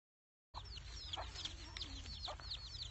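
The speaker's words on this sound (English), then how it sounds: "free range chickens" Free-range hens in Burma cluck and chirp in a steady chorus over a low rumbling background, several birds close by with no talking.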